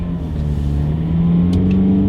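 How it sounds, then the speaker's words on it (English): A used SUV's engine gives a steady low drone that swells and grows slightly louder partway through as the vehicle finally pulls away under acceleration; no voices are present. "you press the accelerator, and a second later, it then decides to go"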